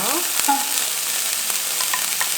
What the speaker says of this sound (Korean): 썰어놓은 야채를 가볍게 볶아줄게요